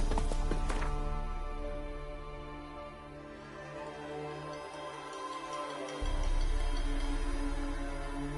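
The horse Roach gallops in the game The Witcher 3, its steady rhythmic hoofbeats running throughout under a loud, continuous musical score.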